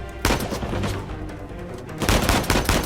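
Sniper gunfire in the video game Uncharted 4, a loud burst of dense shots near the start, a busier stretch of mixed firing and explosions, then another heavy volley toward the end.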